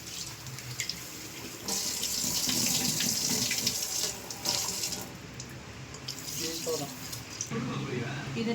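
Mutton bones are rinsed under a running kitchen tap, a continuous splashing stream with shifting gurgles and clatters as the meat is moved, fairly close, with voices in the background.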